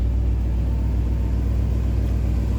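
A 1960 Pontiac Bonneville convertible engine runs steadily without misses, a close, even low rumble that holds constant with no talk over it.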